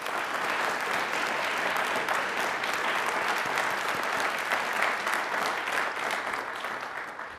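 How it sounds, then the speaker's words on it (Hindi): Loud, sustained applause from a crowd at a televised quiz program, dense clapping that holds steady for several seconds before tapering slightly at the end. "तालियां जोरदार वापस सर के लिए"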